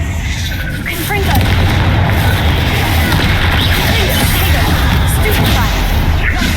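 Confringo fire spell blast in Hogwarts Legacy: a loud, booming burst that swells into a sustained roaring rumble lasting several seconds, set against busy game ambience.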